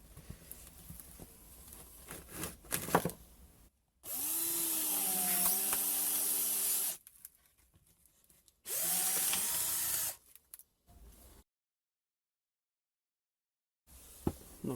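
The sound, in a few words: cordless drill driving a Parkside wood-splitting bit into firewood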